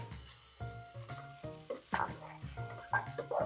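Ribeye steak, about one and a half cups, hits a hot pan for steak and sausage fried rice and sizzles steadily, with a broad hiss plus clinks and scrapes of stirring utensils; no talking.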